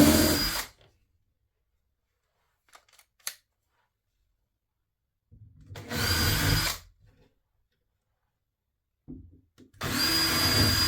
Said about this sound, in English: Now I've got a pilot bit on my drill, and I'm just going to drill a small pilot hole